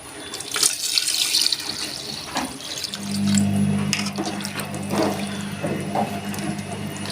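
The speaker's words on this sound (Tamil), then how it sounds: "ஸோ இப்போ பார்த்தீங்கன்னா வாட்டர் ஆட் பண்ணிக்கலாம்" Water pours steadily into a pot of chicken biryani, about 750 ml, a splashing, running stream that deepens in tone as it fills, close by with no talking.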